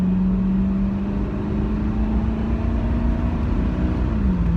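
A 1995 Ford Mustang GT convertible on the highway gives a steady, loud engine drone with a low hum that rises slightly in pitch, under constant wind and road rumble.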